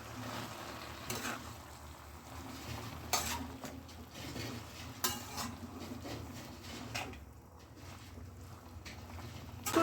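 Spinach leaves with potato pieces get turned in a pan, soft scraping and shuffling strokes with occasional clinks of a utensil against the pan, fairly quiet and alone.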